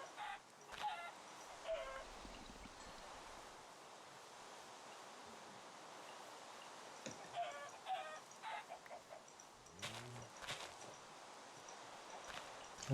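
Blocky Minecraft chickens cluck in short, scattered bursts against a quiet backdrop, with occasional brief clicks and game sounds mixed in and no voices.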